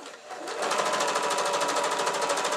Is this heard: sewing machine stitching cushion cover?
yes